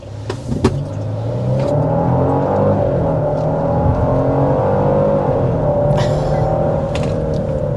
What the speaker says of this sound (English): start with a hard acceleration